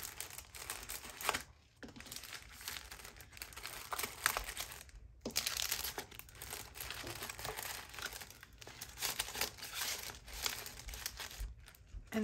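Paper packaging being unwrapped from happy mail, a small wrapped parcel topped with a little flower, gives close, steady crinkling and tearing that runs almost continuously, broken by a few brief pauses, with no talking.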